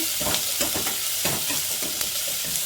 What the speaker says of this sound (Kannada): ಇವಾಗ ಒಂಚೂರು ಎಣ್ಣೆಲಿ ಫ್ರೈ ಆಗಿದೆಯಲ್ವಾ